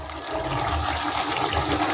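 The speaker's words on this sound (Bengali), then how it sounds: "এবার আমি জল দিয়ে দেব।" Water pouring steadily into fried spiced masala for a hilsa fish curry with pumpkin seeds, a continuous close splashing rush lasting about two seconds with no talk.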